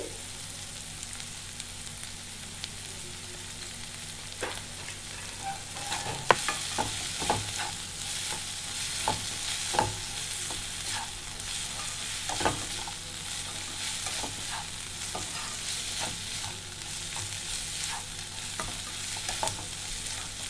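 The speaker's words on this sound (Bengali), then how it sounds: "ক্যাপসিকামের কাঁচা গন্ধটা চলে যাওয়া পর্যন্ত আমাকে ভাজতে হবে।" Capsicum and baby corn stir-fry in a pan, giving an even, close sizzle throughout with occasional sharper crackles and spatula scrapes, no voices over it.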